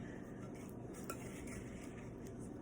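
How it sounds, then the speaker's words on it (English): A spoon stirs a sticky peanut butter and honey cereal bar mixture in a bowl, giving soft, continuous scraping and gentle clinks, quiet and close. "I'm going to do a couple more stirs"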